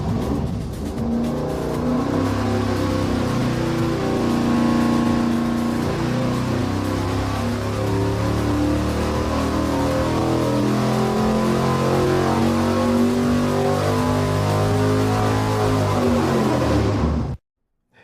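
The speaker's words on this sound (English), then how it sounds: "make Steve fire it up on the dyno" A Mopar engine fitted with beefy pushrods runs on a dyno, roaring loud and close as it revs up through a long sustained pull for about seventeen seconds before cutting off abruptly.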